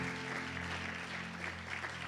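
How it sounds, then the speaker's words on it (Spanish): A church congregation applauds in a steady, dense wash of clapping, with a low sustained tone beneath it. "Denle un aplauso al Señor Jesús."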